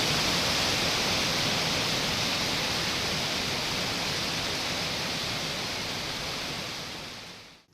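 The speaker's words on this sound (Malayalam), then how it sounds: "റോഡിൽ നിന്ന് 200 മീറ്റർ അകലെ മുതൽ പല തട്ടുകളിലൂടെ കുതിച്ചൊഴുകിയെത്തുന്ന വെള്ളച്ചാട്ടം" A monsoon waterfall cascading down several rock tiers about 200 metres from a road, heard as a loud, dense, continuous roar of rushing water that fades out at the very end.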